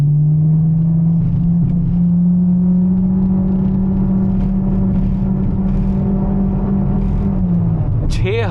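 A Maruti sedan with a CVT gearbox runs on an open road, its engine holding a loud, steady, close drone at a nearly constant high pitch for several seconds before easing off.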